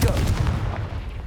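A Confringo fire spell from the video game Hogwarts Legacy bursts with a single heavy, booming blast that rumbles and fades over a little more than a second.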